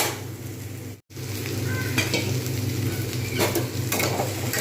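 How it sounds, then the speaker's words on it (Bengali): Steady sizzling and frying of a spiced cauliflower and egg curry in a pan as hot water goes in, a sharp hiss continuing at close range with light stirring and utensil contact throughout, broken by one brief silent gap. "এবার আমি এর মধ্যে গরম জল ব্যবহার করব"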